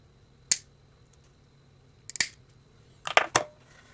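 Scissors or cutters snipping through a mini sprint throttle cable, a few sharp close clicks spaced apart, the last two in quick succession, over near silence.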